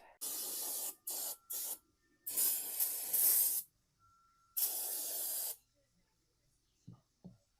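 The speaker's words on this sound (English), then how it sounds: "now I'm going to spray it down" Several hissing bursts of spray during an oil change on a Bad Boy 5055 tractor, a few short squirts then longer sustained blasts, close by, followed by faint handling knocks.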